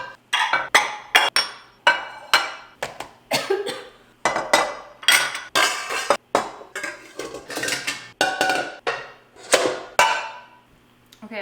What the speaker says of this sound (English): I'm actually gonna go ahead and just pull out basically all of those pots and pans from here and lay them out on the counter